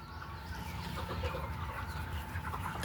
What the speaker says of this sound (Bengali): এখানে 2200 মুরগি আছে, 2200 প্লাস